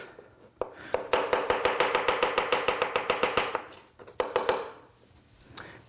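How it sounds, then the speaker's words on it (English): A knife chops lettuce, tomato and pickles on a cutting board for a bleu cheese burger. Quick, even, close strokes run in a long rhythmic burst, then stop briefly before a few final chops. "I like to chop them up a little bit."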